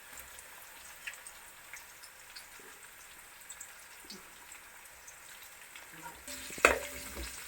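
Green chilies fry in a pan of oil for Kerala lemon pickle, giving a faint, steady crackling sizzle that jumps into a louder burst of spattering and clinks near the end.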